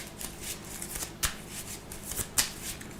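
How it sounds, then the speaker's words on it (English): A deck of Marvel Champions cards being shuffled during tabletop play, with soft riffling and two sharp crisp snaps as the cards bridge back together, close and fairly quiet. "we are going to use his action to shuffle the repulsor beam back in"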